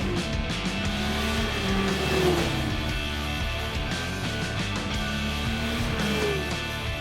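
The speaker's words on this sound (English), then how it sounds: "The exhaust note is mellow but pleasing" A Yamaha SRViper LT-X GT snowmobile's three-cylinder engine hums with a mellow, steady exhaust drone, rising and falling gently with throttle, close and continuous with no talk.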